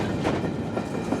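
A Florida East Coast freight train rolls past with a continuous rumbling roar and faint rhythmic clatter of wheels over rail joints, fairly loud and close, with no voices.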